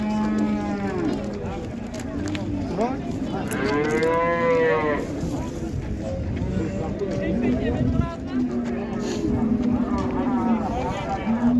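Several oxen moo loudly and repeatedly at the Karvon cattle market in Qarshi, Uzbekistan, long drawn-out calls overlapping amid a busy crowd murmur and people talking nearby.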